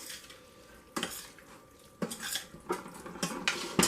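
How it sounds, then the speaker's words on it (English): Green beans stirred in a pan with lemon juice, several distinct scraping strokes and utensil clinks over a soft sizzle, quiet and close, with no voices. "And give it a stir."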